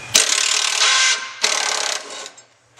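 Bolts being worked loose from the rear subframe plate of a Ford Mustang with a 13mm tool, giving two close, loud bursts of rasping, ratcheting mechanical noise separated by a short pause, with no talking.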